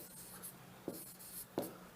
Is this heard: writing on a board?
yes